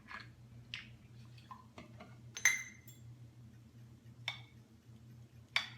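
A 16-ounce glass jar of peach preserves is handled in a kitchen, giving a few faint, scattered glassy clinks and taps against a quiet, low hum.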